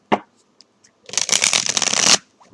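A deck of charm reading cards being shuffled by hand: a single tap, then about a second of dense, continuous riffling that stops abruptly.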